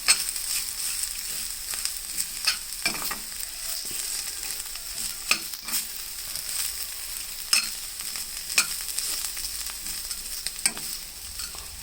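Bitter gourd fry cooking in a pan with chili powder, a steady close sizzle broken by occasional scrapes and taps of a stirring spoon, with no talking.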